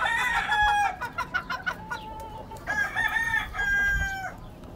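Lacy Roundhead gamefowl roosters on a California farm crow loudly in repeated drawn-out calls, with clucking between them, close by and with no talk.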